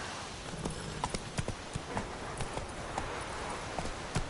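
Roach, a horse in The Witcher 3, trots along with steady, evenly spaced hoof clops, moderately close and fairly quiet over a soft background bed.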